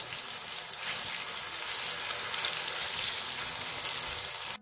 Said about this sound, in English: We have to fry the onions until they're golden brown in color.